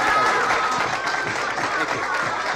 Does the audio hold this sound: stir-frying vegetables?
no